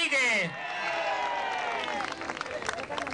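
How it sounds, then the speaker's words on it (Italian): An audience claps and cheers for a folk group being announced: a burst of loud cheering and whistles at the start, then steady massed clapping that continues to the end under crowd murmur. "Come mai questa qua ha tanti applausi?"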